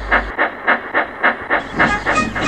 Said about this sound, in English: Molly made her way towards the wharf with her goods train